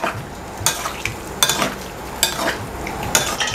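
Beef tripe being stirred with salt in hot oil, with soft sizzling under a series of irregular scraping stirs, about five distinct strokes spaced across a few seconds, close and moderately loud with no talking.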